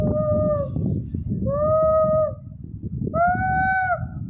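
A voice imitates a parrot's call three times, each a rising and falling squawk-like tone, with noisy background between the calls.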